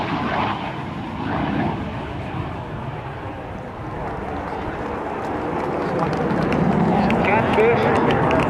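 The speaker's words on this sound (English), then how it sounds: "Look for your United States Navy's high-speed pass from the Hornet." US Navy Hornet jet making a high-speed pass at the Dayton airshow, a rough broadband roar that swells toward the end, with crowd and announcer talk mixed in over it.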